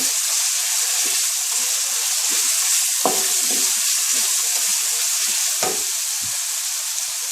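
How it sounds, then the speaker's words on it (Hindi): Masala spices sizzle steadily in a pan over a low flame for hari mirch keema. The close, constant frying hiss is broken by a few scraping stirs. "मसाले को हल्की आंच पे आप भुने तो बहुत ही बेहतर है।"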